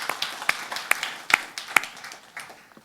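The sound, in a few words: congregation applauding in church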